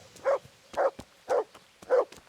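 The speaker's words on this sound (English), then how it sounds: "What's the dog barking at?" A dog barking in the medieval video game Kingdom Come: Deliverance, four short evenly spaced barks about half a second apart, moderately loud over quiet background ticks.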